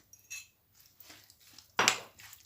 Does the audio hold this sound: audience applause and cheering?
no